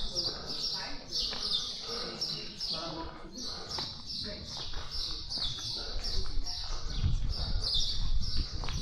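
Birds chirp and tweet repeatedly in a steady chorus at the Hagar Qim temples in Malta, high and bright over outdoor background noise that grows louder toward the end.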